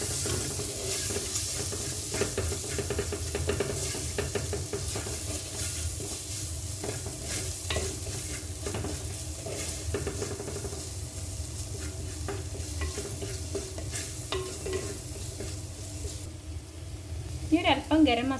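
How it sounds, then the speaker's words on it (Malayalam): Spice powders, including pepper powder and garam masala, are stirred as they sizzle and fry in a pan for a Kerala-style breadfruit curry. There is steady frying hiss with repeated spoon scrapes throughout, and a brief clatter near the end. "ഇത് പച്ചമണം മാറുന്ന വരെ നല്ലോണം ഒന്ന് ഇളക്കി കൊടുക്കാം"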